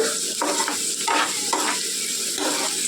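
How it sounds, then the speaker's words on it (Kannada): Spices frying in a pan for a spicy masala sambar with rice, sizzling steadily under repeated stirring scrapes that come in regular strokes every half second or so, close and fairly quiet. "ನೋಡಿ ಈ ಥರ ಫ್ರೈ ಮಾಡ್ಕೋಬೇಕು"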